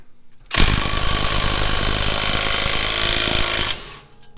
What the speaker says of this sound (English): So I'm still going to hold it on the left and impact over here